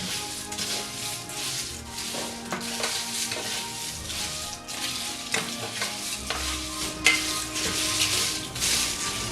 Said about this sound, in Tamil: குறைச்சி வச்சுட்டு இதை மிக்ஸ் பண்ணி வறுத்தெடுப்போம்